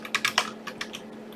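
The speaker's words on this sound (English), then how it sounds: "So maybe I'll try typing something else in the search." Computer keyboard typing into a search box, a quick burst of several close, crisp key clicks followed by a few sparser taps, with no talking.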